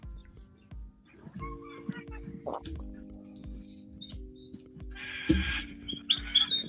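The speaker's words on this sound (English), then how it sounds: "the early morning birds and that are cool. Like they sound awesome through the earbuds" Wild Australian birds call in the early morning, scattered chirps and short whistles near and far over a low steady hum, with brief rustles between calls.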